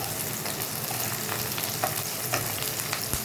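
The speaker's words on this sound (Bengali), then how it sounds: "পেঁয়াজ ভাজা হচ্ছে, হালকা ভাজা হয়ে এসেছে।" Onions frying for chilli chicken, a steady close crackling sizzle with faint stirring clicks throughout, no voices.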